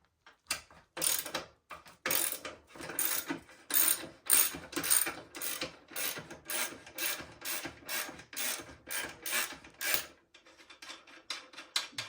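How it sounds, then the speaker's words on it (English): Ratchet wrench loosening the rear axle of a motorcycle during a 12-inch supermoto wheel set install, a run of quick repeated clicking strokes, close and crisp, pausing briefly then resuming. "start by loosening the rear axle"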